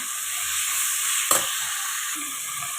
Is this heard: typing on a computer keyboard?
no